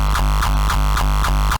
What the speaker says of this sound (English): let me see if I can just make this kick a bit higher pitched